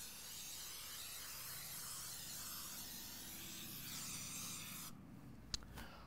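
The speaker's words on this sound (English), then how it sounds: "Again, make sure we spray all areas." A steady aerosol oil spray hisses continuously for several seconds onto a thick, heavy steel vertical offset smoker, then cuts off, followed by a faint tap or two.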